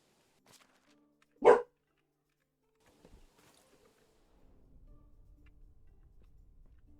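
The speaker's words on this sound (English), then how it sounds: "Buddy, quit the barking." A single short, sharp dog bark rings out once in a video game, followed by quiet low rumbling and faint ticking.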